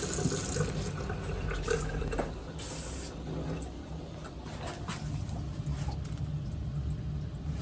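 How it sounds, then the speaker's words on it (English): Steady water rushes and gurgles continuously through pipes of a newly installed tankless water heater, a moderate, close hiss of flow with faint splashy bursts and no talking. "Okay, I can hear water."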